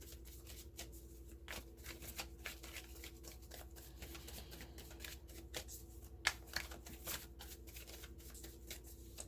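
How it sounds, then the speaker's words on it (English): Repeated riffling and snapping of playing cards being shuffled, quiet and close, with a steady low hum underneath and a few sharper clicks. "after a good shuffle, if a card pops out, I'll take that at the end of the shuffle"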